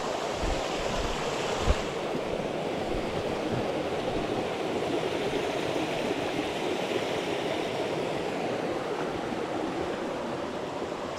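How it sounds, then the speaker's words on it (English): Water rushes steadily at a creek crossing along the Appalachian Trail, a continuous, fairly loud wash with some wind noise, heard alone without talk. "There's a pretty creek crossing here."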